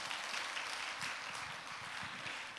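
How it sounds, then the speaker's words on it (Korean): Church congregation clapping in a continuous, fairly soft and distant wash of applause, with no voices standing out. "박수 쳐주세요"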